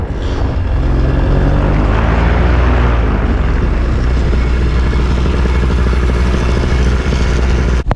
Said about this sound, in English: It's just really cool, super duper windy. The gust front comes through.